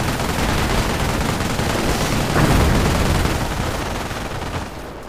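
A dense, continuous roar of rocket barrage and mixed gunfire fills a battlefield in the Europe in Ruins strategy game, loud and unbroken throughout, swelling slightly in the middle before easing off.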